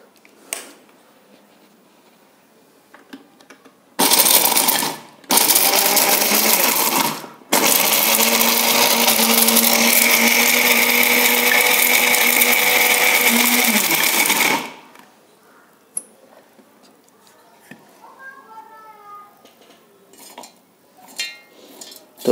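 A loud electric grinder whirs as slightly damp seeds are ground into powder, starting in two short pulses, then running steadily for about seven seconds before cutting off, leaving quiet handling clinks.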